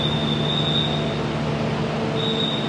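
Joglo Semarkerto passenger train departing from a busy station, a steady rumbling roll with tonal wheel and motor hum and a faint high squeal, continuous and fairly close.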